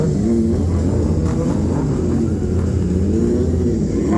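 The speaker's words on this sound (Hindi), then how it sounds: "स्लो बाइक रेस हो रहा है सुपर बाइक के बीच।" Superbikes such as a ZX-10R, Z900, ZX-6R and Aprilia 457 idle and rumble together during a slow bike race, a loud continuous low engine drone with gentle pitch swells and no break.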